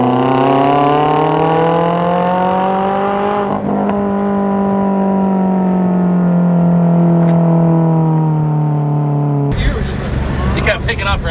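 A supercharged Subaru BRZ accelerating in a drive-by, a loud rising engine note climbing through the gears before cutting off sharply, followed by closer rough noise with voices talking nearby.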